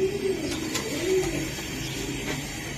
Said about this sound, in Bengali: পাগলা একটা কবুতর